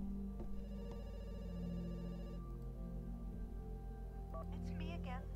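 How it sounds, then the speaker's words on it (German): Telephone ringing in the horror video game The Works of Mercy, a repeated electronic ring tone heard over a steady low game ambience, followed by a brief pause and a few short tonal chirps toward the end. "Telefon klingelt auch."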